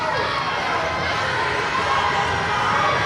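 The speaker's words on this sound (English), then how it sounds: "you can hear the kids, the K-4 crowd that packed the gym tonight on rec night" Young kindergarten-to-fourth-grade children pack a school gym during a boys' basketball game on rec night, their crowd noise a loud, continuous roar of cheering and shouting that fills the space.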